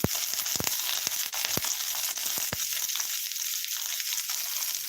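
Onion, garlic and curry leaves fry in oil for a dry fish gravy, giving a constant close sizzle broken by sharp crackles and pops scattered irregularly through it, with occasional stirring scrapes.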